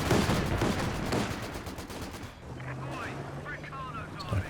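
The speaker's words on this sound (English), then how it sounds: "Sniper taking some shots." Sniper rifle shots in the video game Company of Heroes 2, with sharp gunfire cracks and bursts amid battle noise and a low droning tone, mixed under a commentator's voice.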